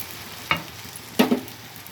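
Water is poured into a pan of sizzling, spiced curry, giving two short bursts of hiss and splash about half a second apart over a quiet low background.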